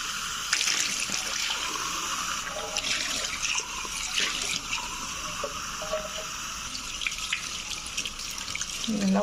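Water runs from a tap over potted plants being washed, a steady splashing rush with shifting spatter and drips.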